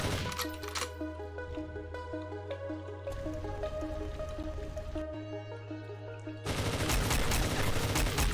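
Rapid automatic gunfire in a video game, dense repeated cracks in long bursts that grow louder and harsher toward the end, alongside a steady electronic tone.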